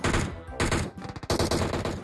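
Rapid bursts of automatic gunfire from the mobile battle royale game PUBG Mobile, loud and close, with dense overlapping shots in several quick volleys.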